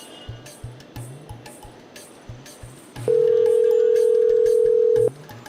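During a comedy skit, a telephone dial tone sounds as one steady loud tone for about two seconds over a rhythmic background beat, then cuts off.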